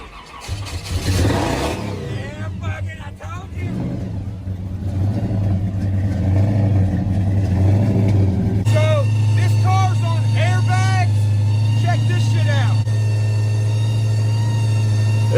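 Car engine cranks and catches, then holds a loud, sustained rev at half throttle, with a strong rumbling tone that stays close and steady to the end.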